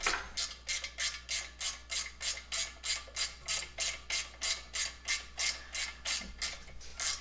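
Ratchet wrench loosening original bolts on a 1973-87 K5 Blazer front axle hub, a steady run of about twenty quick, evenly spaced clicking strokes, close and loud with no talking.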